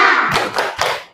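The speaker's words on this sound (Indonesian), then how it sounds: "Coba tepuk semangat." A school class does a rhythmic spirit clap together: three sharp, loud group claps in quick succession, close and without talk.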